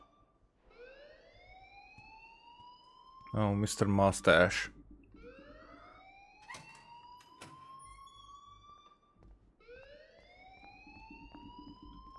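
School fire alarm in the game Life Is Strange, wailing in rising electronic sweeps that repeat about every three seconds, loud and close, with a brief burst of noise and someone speaking partway through.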